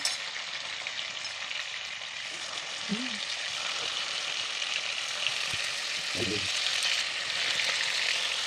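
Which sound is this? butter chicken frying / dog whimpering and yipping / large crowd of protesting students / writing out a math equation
butter chicken frying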